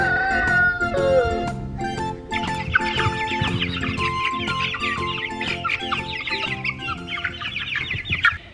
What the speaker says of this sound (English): we have lots of chickens